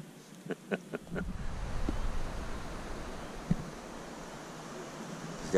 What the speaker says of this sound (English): It's definitely windy out tonight.